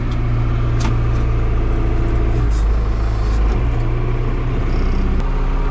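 Diesel engine of a John Deere 510C backhoe running steadily, a loud, continuous low rumble close by with a few faint clanks over it.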